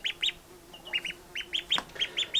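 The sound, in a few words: Muscovy duck calling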